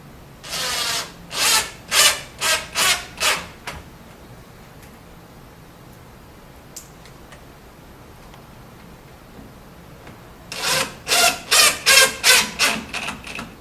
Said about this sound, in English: We're going to take our 1/2 inch flathead screws again.